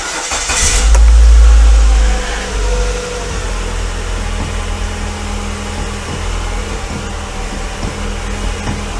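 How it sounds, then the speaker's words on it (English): A Mazda 626 engine cranks and fires, with a loud starter burst about a second in before it settles into a steady, rumbling idle, close and alone. "Engine start."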